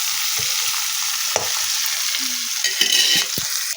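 Onions and vegetables sauté with a steady hiss in a hot pan for chow mein, with a spatula knocking and scraping the pan now and then, close and without talk.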